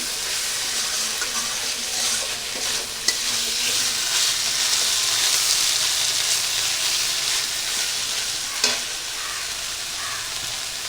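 Potatoes are stir-fried with spices in a hot pan, giving a loud, continuous hiss of frying oil with a few brief scrapes of stirring, heard close up with no one talking.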